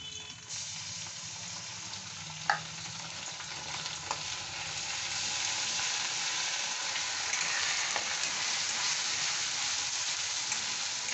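Garlic and ginger paste frying in a pan for chicken bhuna khichuri, giving a steady close hiss that swells and holds, with a couple of faint utensil taps near the start.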